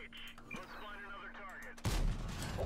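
Tank cannon firing in World of Tanks, a single heavy boom late in the clip that follows talk and lingers as a loud rumble.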